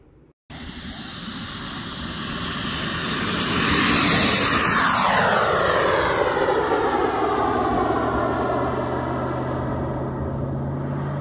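A radio-controlled turbine jet powered by a King Tech 260 engine flies past, its loud whine swelling to a roaring peak and sweeping down in pitch as it passes, then settling into a steady distant rush.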